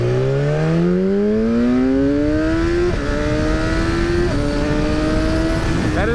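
A 2012 BMW S1000RR sportbike engine revs hard at part throttle, its loud, close howl climbing steadily in pitch, dipping briefly at two gear changes, then climbing again.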